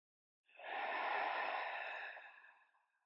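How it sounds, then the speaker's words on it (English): A single deep cleansing yoga breath, drawn in and released in one long, smooth, close airy rush that swells quickly, holds steady, then fades out gently. "cleansing inhale and exhale."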